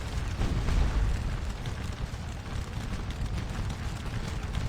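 Artillery shelling in the Napoleonic battle game Scourge of War Waterloo, a continuous distant rumble of booms and bursts rolling together at moderate level, with no talk.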